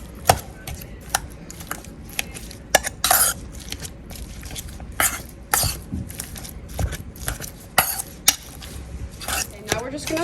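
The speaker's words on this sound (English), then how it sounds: "take this, smash everything up" Diced tomatoes, onion and garlic being smashed in a bowl with a kitchen utensil, repeated irregular thumps and clacks against the dish, fairly close and sharp.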